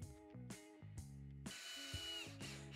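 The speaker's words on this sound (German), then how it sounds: "In gleichmäßigen Abständen werden von beiden Seiten her 20 Schrauben verschraubt." A power drill drives screws into wooden battens on a garden sauna's roof beams, with several short bursts of whirring that rise and stop in quick succession, close up.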